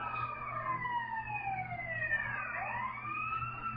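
A wailing ambulance siren sweeps up and down continuously over a low engine rumble as the vehicle drives off a bridge, loud and close throughout with no talking.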